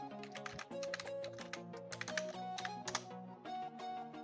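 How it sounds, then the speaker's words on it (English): Fingers type a password on a computer keyboard in a quick, irregular patter of close, crisp key clicks with brief pauses between bursts, fairly quiet overall. "I'm just gonna enter my password"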